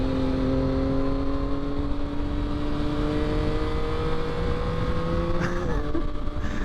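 A 2022 Yamaha XSR900 motorcycle engine runs loud and steady while riding, holding a smooth droning pitch that shifts slightly near the end under continuous wind rush.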